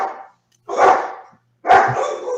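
Dogs bark in loud, close bursts, two or three sharp barks spaced about a second apart with brief silences between.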